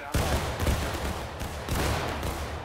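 Musket volleys in War of Rights, a Civil War game, with soldiers at independent fire: overlapping loud booming shots rolling continuously, a few sharper reports standing out at the start and near the middle, no talk.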